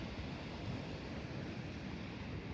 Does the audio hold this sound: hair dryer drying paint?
no